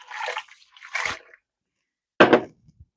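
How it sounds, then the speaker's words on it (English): Liquid seasoning marinade poured from a sealed bag into a container for London broil, two short, splashy pours followed by a louder gush and a couple of small drips, close and with no talk. "I am going to pour that in."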